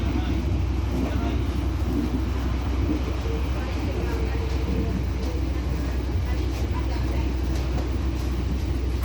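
Steady rumble of the Ambarawa Ekspres, an economy premium passenger train, heard from inside its old-style dining car with bar seating: continuous low-frequency running noise and rattle, constant and fairly loud throughout, with faint voices underneath.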